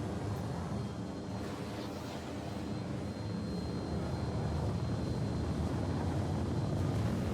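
A Mustang Alpha spacecraft flying in a space combat video game, heard as a steady, dense engine roar with a faint high whine, continuous and fairly loud throughout with no speech.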